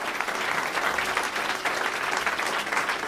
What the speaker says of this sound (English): Please put your hands together for, firstly, James Golding, Adam Byatt, Pip Lacey, Tom Rhodes.